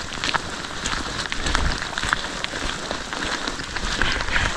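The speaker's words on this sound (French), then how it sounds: "La pluie. T'aimes ça la pluie là?" Rain falls outdoors on a mountain descent, a dense, steady hiss of drops pattering on surfaces close by, loud and constant with no voices.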